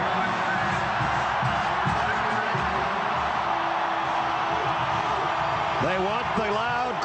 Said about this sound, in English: They've got the loud crowd.